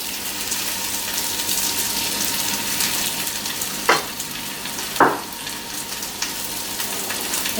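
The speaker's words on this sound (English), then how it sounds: "Now we're going to put the potatoes in. Let them get just a little bit brown on the bottom." Potatoes and onions sizzle steadily in a pan for a frittata, a dense, even frying hiss throughout with two brief louder bursts of stirring or scraping partway through.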